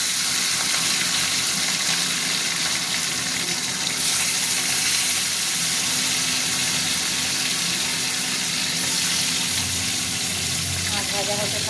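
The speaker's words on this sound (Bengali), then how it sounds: "মাছ ভাজা হতে থাক।" Fish fries in hot oil with a loud, continuous sizzle and bubbling hiss that holds steady throughout.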